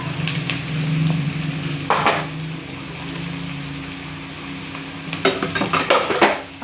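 Ginger garlic paste frying in a pan, a steady soft sizzle with brief louder bursts of stirring and spatula scrapes, heard alone without talk.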